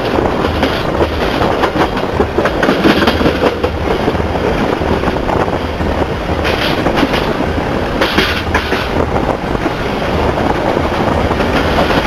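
Mataram passenger train pulling into Jati Barat station on track 3, a loud, continuous rumble of rolling wagons with clickety-clack wheel beats and faint squeals, close by and filling the whole stretch without talk.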